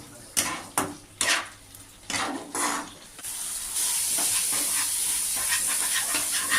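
Prawns and salt are stirred in a pan for a Bengali shapla chingri dish: several sharp utensil scrapes and clinks come first, then a steady close hiss of frying takes over.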